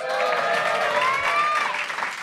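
Live theatre audience at De Pomp in Hoven breaks into warm, dense applause, a steady wash of many hands clapping at a moderate distance, with a bit of cheering mixed in.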